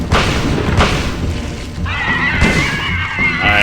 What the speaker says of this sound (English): I wasted a shot there